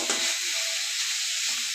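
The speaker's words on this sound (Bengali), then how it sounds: "একটু ভালো করে জলটা কষায় নেব শাকে।" Betoa shak greens with green chilies cook down in a pan, a close, steady sizzle with soft stirring scrapes as the water reduces.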